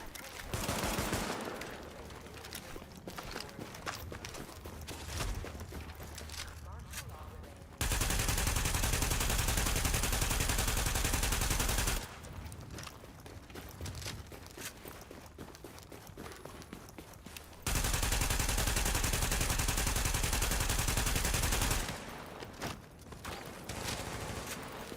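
Bursts of automatic weapon fire in a Tom Clancy's The Division firefight, loud and sustained in two long stretches, with quieter footsteps and movement between them.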